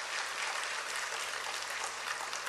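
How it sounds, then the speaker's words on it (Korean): A church congregation claps together in a steady, dense patter of applause that sounds fairly distant and soft, filling the room evenly without voices. "우리 감사로 하나님께 영광의 박수 올려드립니다"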